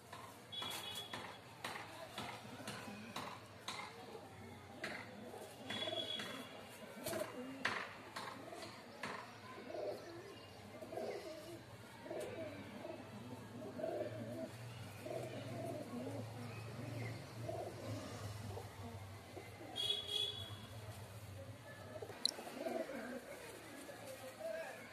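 Pigeons coo in soft, repeated rounded calls at a moderate distance, with a few clicks and rustles and a voice speaking in between.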